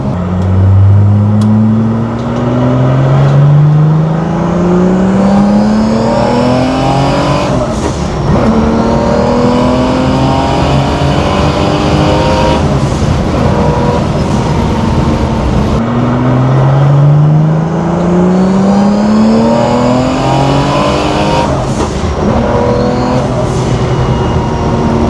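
A turbocharged Porsche engine revs hard, pitch climbing steeply through several gears with brief drops at each shift, loud and close throughout.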